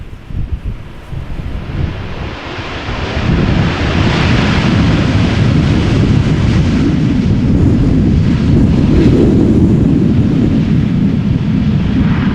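A Boeing 777 arriving at Amsterdam Schiphol from Shanghai rumbles in, its roar swelling after a few seconds into a loud, sustained engine noise mixed with gusty wind buffeting the microphone.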